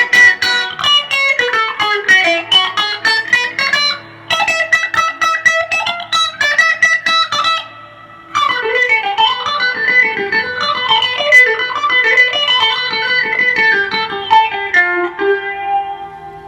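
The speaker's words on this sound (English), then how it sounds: "Maybe a little phaser. Ooh, that does sound really nice with the clean tones" Clean electric guitar, a PRS SE Custom 24, playing melodic lines with a sweeping, swirling phaser effect, notes ringing and sustaining, with one brief pause partway through.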